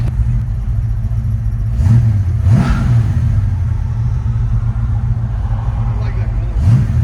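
Classic Ford Mustang Mach 1 V8, a 5.8L 351 or 6.7L 410, rumbling loudly at idle from inside the car, with a couple of brief revs rising and falling over the deep steady burble; people talk over it.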